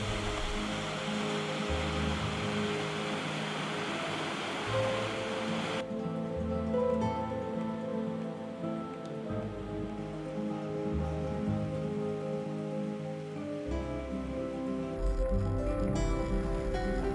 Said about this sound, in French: Une petite halte au bord de la route au niveau du torrent du Chastillon